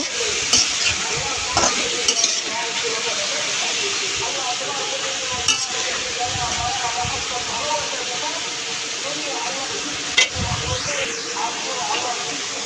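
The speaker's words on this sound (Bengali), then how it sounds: "কাঁঠালের বিচিগুলো করলা এবং পেঁয়াজ এবং রসুনের মধ্যে তেলের মধ্যে দিয়ে দেবো ভালোভাবে মিক্স করে একটু ভেজে নিব" Jackfruit seeds, bitter gourd, onion and garlic fry in hot oil with a steady, bright sizzle, while a utensil clinks against the pan now and then.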